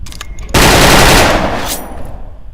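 Automatic gunfire from a team shooter video game rips out in one loud, dense burst lasting about a second, then trails off into a softer rumbling tail.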